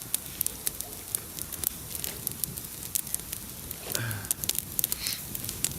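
Campfire of damp wood burning outdoors in wet weather, giving off scattered sharp crackles and pops over a soft, steady hiss, heard close and fairly quiet with no voices.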